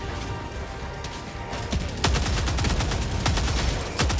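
Rapid gunfire in Helldivers 2 during a fight against Automatons, with a dense machine-gun fusillade and sharp close shots cracking over a noisy battle, growing louder partway through, with no talk.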